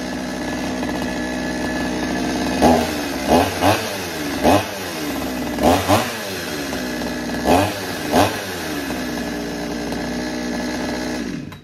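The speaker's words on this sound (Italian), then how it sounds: "Proviamo a metterla in moto." A chainsaw engine, started after a chain replacement, runs loudly and close, revved in several quick bursts over a steady buzzing idle, with no voices.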